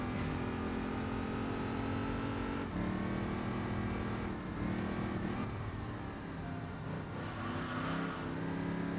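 Big block Cobra engine revving hard in the racing game Enthusia Professional Racing, a steady, loud mid-pitched drone that rises and drops as the car shifts and accelerates.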